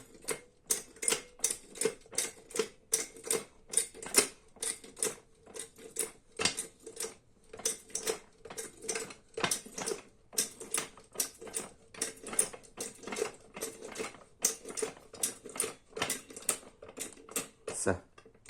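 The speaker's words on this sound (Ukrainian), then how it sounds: "Домкрат піднімається." A Winso 171660 hydraulic trolley jack is pumped and raised, giving a long, steady series of rhythmic clicking strokes, close and evenly spaced, with faint background sound between them.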